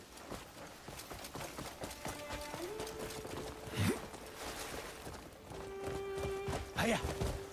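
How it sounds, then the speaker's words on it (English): A horse gallops in the video game Crimson Desert, its hooves thudding in a steady quick rhythm at moderate distance, with occasional tonal game sounds layered over the hoofbeats. "Let me get on my horse real quick."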